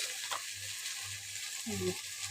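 Jute leaves (pat shak) frying in a pan, a steady sizzle throughout with a brief scrape of stirring near the end, close and continuous, no voices.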